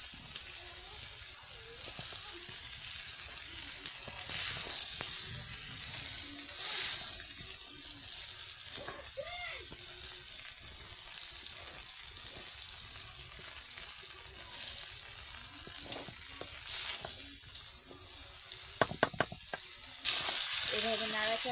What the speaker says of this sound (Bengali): এভাবে নাড়াচাড়া দিয়ে ভালো করে চাল, বুট আর ডালটাকে ভালো করে ভেজে নেওয়া হইতেছে।